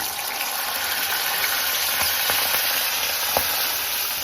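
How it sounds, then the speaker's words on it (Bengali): Raw chickpeas being stirred in a frying pan while cooking a vegetarian taro-leaf dish, giving a steady, close sizzle and frying hiss with a few soft scraping knocks from the stirring. "কাঁচা ছোলাটা একটু ভালো করে এর মধ্যে নাড়াচাড়া করে নিচ্ছি আমি"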